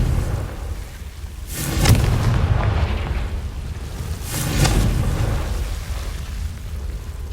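Two heavy booming blasts of the Confringo fire spell in Hogwarts Legacy, each a sharp broadband burst that rolls off into a long rumbling decay, the pair spaced a few seconds apart with no voices.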